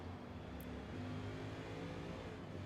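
Mustang race car engine in a racing video game, a steady loud drone of running motor with layered engine harmonics, continuous throughout with no talking.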